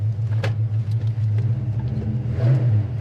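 A 1971 Pontiac GTO engine with a 4-speed manual rumbles from inside the cabin, its low drone swelling as the car accelerates, with road noise underneath.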